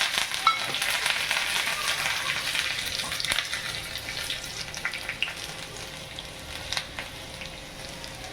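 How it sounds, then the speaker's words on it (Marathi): Mustard seeds and finely chopped green chillies splutter in hot oil over low heat for a tempering, with sharp crackling pops over a sizzle that is louder early and gradually settles; no talking. "तेल गरम झालं आहे मी राई टाकते राई टाकून झाल्यावर ही बारीक कापलेली मिरची"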